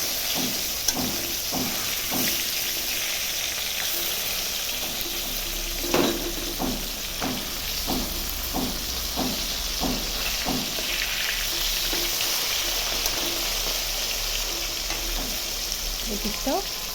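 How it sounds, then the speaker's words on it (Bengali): Katla fish pieces fry in a pan of hot oil with a loud continuous sizzle, broken by a regular series of light taps and scrapes from turning and pressing the fish. "এই পিসটাও ভালো করে একটু ভেজে নিচ্ছি"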